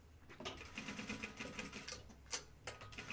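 A sewing machine stitches fabric, running as quick, irregular mechanical ticking and whirring bursts with a brief sharp clack near the end, close and fairly quiet with no speech.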